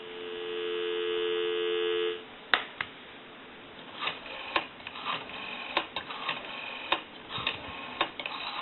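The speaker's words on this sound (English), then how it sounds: "Go ahead and give you some dial tone." Steady dial tone from a Princess rotary telephone handset, a flat hum for about two seconds that then cuts off, giving way to faint clicks and ticks on a quiet line.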